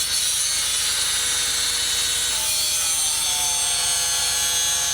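A cutting tool trims down a misaligned part on farm hay equipment, giving a loud, continuous grinding rasp that holds steady throughout with no talking.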